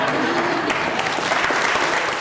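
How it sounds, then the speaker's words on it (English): Applause from attendees at the opening of a century chest by a woman governor, as its contents are revealed: a full, continuous wash of clapping from a crowd, loud and steady throughout. "Those in attendance applauded as the contents of the chest were revealed"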